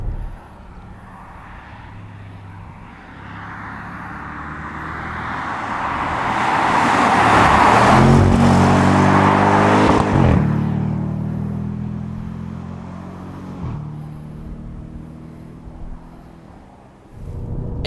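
A 2017 Audi RS6 Performance engine builds from low revs into a loud, rising roar that peaks, then drops sharply as it shifts and settles back to a lower drone.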